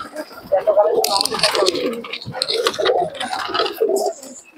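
Pigeons coo and call at a busy pigeon market in Murshidabad, with male and female birds nearby, their repeated low calls mixed into steady overlapping chatter from people close by.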